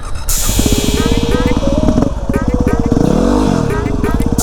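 A Yamaha WR250R dirt bike revs loud and close during slow wheelie practice, the engine climbing and falling in pitch with a brief rev sweep near the end, and a person speaks over it.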